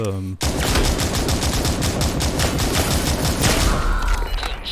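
A shotgun fires in the shooter game Super People in rapid, closely spaced blasts that form a dense barrage, with someone talking over the gunfire.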